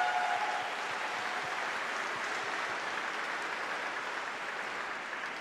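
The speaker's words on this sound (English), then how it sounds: "And a big round of applause for Bill, all the organizers, the park staff" Steady, sustained crowd applause from an audience at an ice climbing festival, a dense even wash of clapping heard from a moderate distance without voices on top.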